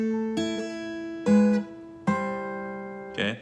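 Guitar notes for the chord part, three separate plucked attacks that ring and fade, then a brief scrape at the end, close and clear with no talk.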